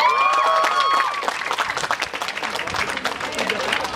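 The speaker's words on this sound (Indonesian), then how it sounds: "Tepuk tangan dulu dong." An audience applauds, dense clapping that fades to scattered claps, with a few voices and cheers rising at the start.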